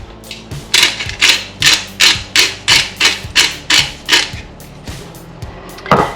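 A pepper mill grinds pepper into a salad dressing, about a dozen crisp, rhythmic cranks close by with short pauses between them.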